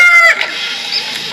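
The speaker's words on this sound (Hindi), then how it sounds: "मुर्गा को हम इंग्लिश में कॉक कहते हैं।" A single loud, close rooster crow rings out briefly, bright and strained at the start and trailing off quickly, heard alone without talk.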